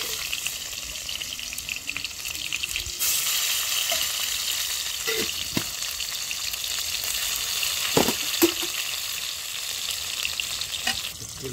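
Onions frying in a pan with bay leaf and chili for a home-cooked Odia egg curry, a steady close sizzle with intermittent scraping stirs and clatter.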